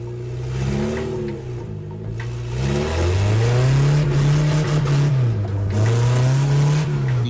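A race car engine revs and accelerates in a street racing game, climbing in pitch, dropping back, then rising again in loud, close sweeps with no talk over it.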